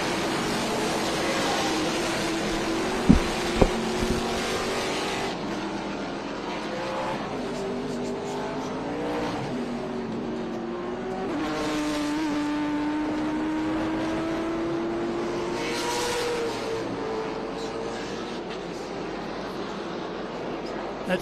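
Trans Am race cars, including the Nitro Motorsports Toyota Camry, roar around Portland International Raceway, their engine notes rising and falling as they pass, with a couple of sharp pops, under steady commentary.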